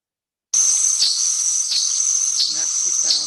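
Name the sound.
black-throated mango hummingbird sound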